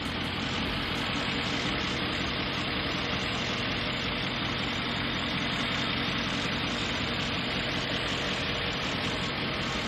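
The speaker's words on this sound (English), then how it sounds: "here we have the engine" A 2019 Mercedes G-Class engine idles with a steady, dense rumble that holds even and unbroken throughout, heard up close with no voices.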